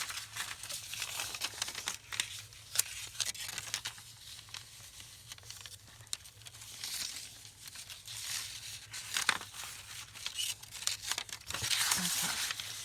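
Scissors cut wrapping paper in a long straight line, producing close, crisp crinkling and snipping sounds with uneven bursts throughout.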